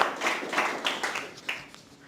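An audience at a motivational talk claps in uneven bursts, a patter of hands of moderate loudness that rises and fades over a couple of seconds.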